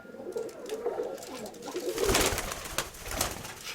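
Pigeons, including a newly settled pair, coo at the nest, low soft calls repeating over a busy background with brief rustles and knocks near the microphone.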